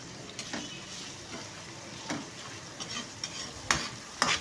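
Garlic sautéing in a pan, cooked only until pale rather than browned: a steady low sizzle with occasional sharp scrapes and clinks of a utensil against the pan, fairly close, with no talking.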